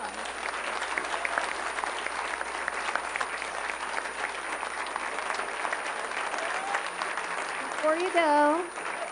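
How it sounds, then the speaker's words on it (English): Steady audience applause for candidates at a League of Women Voters candidate forum, a dense, even wash of clapping throughout with a brief voice near the end. "let's give them a big round of applause"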